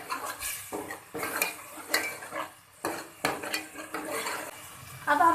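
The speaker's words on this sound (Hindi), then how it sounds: "अब हम इसमें अदरक लहसुन भी भून लेंगे।" Ginger and garlic frying in a masala in a pan for chicken and vegetable masala pasta, with a utensil clattering and scraping against the metal in repeated stirring strokes over a soft background sizzle.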